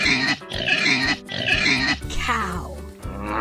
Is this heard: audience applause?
no